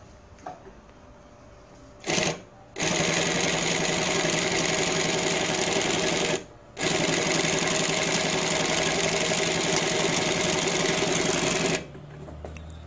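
A New-Tech GC-8B cylindrical bed industrial sewing machine runs at a steady, loud mechanical whir, stitching in three sustained bursts separated by two brief pauses, with no talking.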